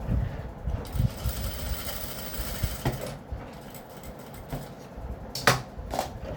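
A sewing machine stitching a cut work neckline, a steady mechanical whir with ticking needle rhythm, pausing and restarting with handling clicks and fabric rustle toward the end.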